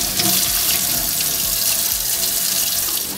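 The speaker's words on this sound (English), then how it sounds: "We got water." A newly installed kitchen sink faucet runs steadily, its water stream pouring loud, close and unbroken into the basin with no talk.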